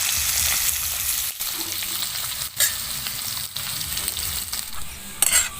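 Potato pieces deep-frying in hot oil for a Bengali rui fish curry with cauliflower, a steady close crackling sizzle with brief scraping stirs and a few dips in the bubbling.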